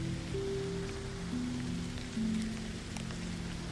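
Heavy rain drums steadily against high windows of an old 1927 library, a continuous dense wash of patter with low tones humming underneath.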